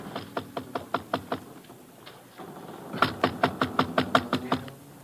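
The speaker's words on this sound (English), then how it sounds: "I wait a short distance away while he knocks on the door." Knuckles rap on a ship's cabin door in two series of sharp, evenly spaced knocks, six or seven in each, fairly close, with a short pause between the bursts.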